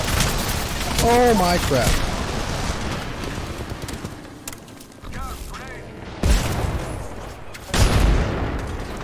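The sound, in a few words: gunfire from being shot at in a video game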